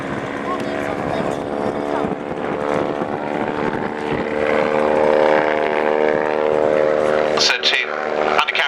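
Rolls-Royce Nimbus-powered helicopter of just over 300 shaft horsepower flying at an airshow, a steady droning engine and rotor hum with strong harmonic tones, loud and continuous, under a commentator's voice.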